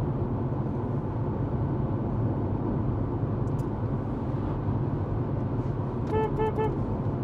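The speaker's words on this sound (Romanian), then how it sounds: "Da, dar avem claxon ca lumea." A Dacia Sandero Stepway's car horn gives a short burst of a few quick honks near the end, heard from inside the car over steady road and engine noise.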